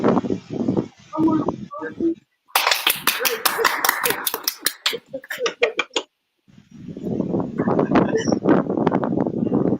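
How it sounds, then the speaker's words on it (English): A studio audience breaks into a short round of applause midway, a few seconds of dense clapping, with people talking before and after it. "Can I request one more applause from the studio audience?"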